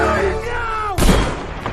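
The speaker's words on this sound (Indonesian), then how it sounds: "seorang sniper menembak tangan Bambang" A single sniper shot in a film lands as one sharp, heavy crack that cuts across the dramatic score playing underneath.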